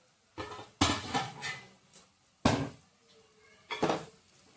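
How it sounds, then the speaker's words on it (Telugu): Metal lid lifted off a cooking pot of goruchikkudu (cluster bean) and sweetcorn masala curry in a home kitchen, giving several sharp clanks and scrapes spaced over a few seconds, fairly close and with no talk. "ఒకసారి మూత తీసి చూద్దాం."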